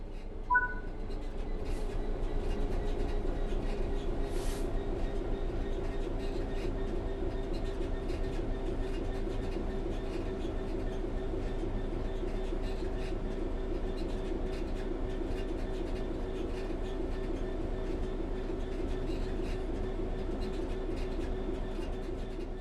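A steady, low rumbling train drone from Train Sim World 3 rolls on continuously as the train coasts on level ground, with faint rattling and clicks, holding an even level throughout with no voices.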